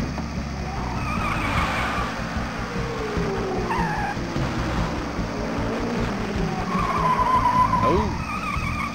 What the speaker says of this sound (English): We're all crashing and stuff.